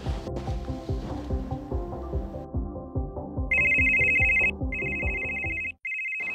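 A phone rings in repeated electronic bursts, starting over rhythmic plucked music that then cuts out, leaving the ringing alone.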